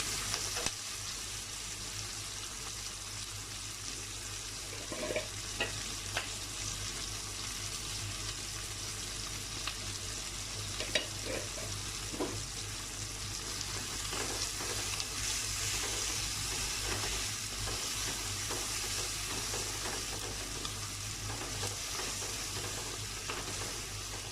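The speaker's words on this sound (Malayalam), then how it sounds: "നമുക്ക് ഇതിനകത്ത് കുറച്ച് ഉപ്പും കൂടി ഇട്ടിട്ട് നന്നായിട്ടൊന്ന് വഴറ്റി കിടക്കും" Masala ingredients sautéed with salt sizzle steadily in a pan for a long stretch, with occasional scraping stirs and light clicks of the utensil, close but soft, and no one talking.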